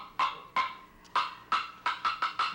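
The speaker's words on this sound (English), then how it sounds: "When a larger log is used and is struck by a heavier stick" A series of heavy, hollow wooden thuds, about seven strikes in an uneven rhythm, each ringing briefly, like a thick stick beating a large log.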